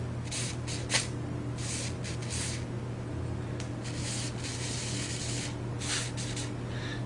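Aerosol oil sprayed onto the bearings of a Tekin T8 brushless motor: several short hissing bursts of spray, some in quick pairs, close and clear over a steady low hum.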